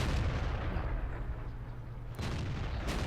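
Tank cannon fire in World of Tanks, played on the ELC AMX light tank: a deep booming shot at the start, then a lower rumble and a second sharp burst near the end.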